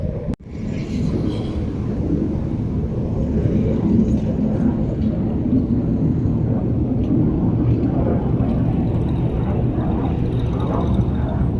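Airplane taking off from the main airport on Okinawa, heard as a loud, steady low roar that holds across the whole stretch after a sharp knock at the start, with wind noise on the microphone.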